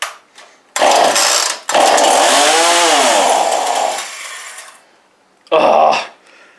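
A chainsaw is pull-started and warmed up: a short starter-cord pull, then the engine catches and roars loudly for several seconds with the revs rising and falling, dies away, and fires up again in a brief burst.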